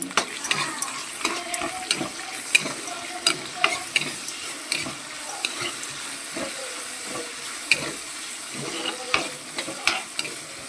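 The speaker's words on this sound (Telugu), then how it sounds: "ఇప్పుడు జీలకర్ర, పచ్చిమిర్చి, కరివేపాకు కలుపుకున్నాం." Cumin seeds, green chillies and curry leaves frying in oil while being stirred, a soft continuous sizzle broken by repeated spatula scrapes and taps in an uneven rhythm, close and unaccompanied by speech.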